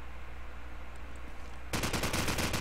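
A sudden burst of rapid automatic gunfire pre-fires a bomb site in Call of Duty 4 during a competitive match, loud and fast after a quieter stretch of game ambience.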